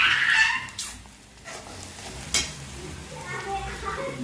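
Spices with turmeric, chili powder, coriander powder and masala sizzling in hot oil as they are stirred in a pan for a dry soybean chunk curry, a soft hiss with occasional scraping, under a voice.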